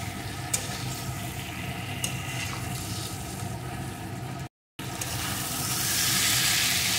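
Fried potato and papaya cooked with spice masala in a pan: a continuous close sizzle with light stirring scrapes, a brief gap of silence, then a louder, fuller frying hiss, and no speech.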